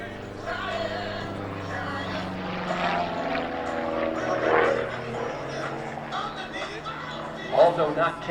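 Long EZ homebuilt experimental delta-wing airplane with a propeller engine flying at an air show, a steady droning hum that swells slightly as it passes, under continuous commentary.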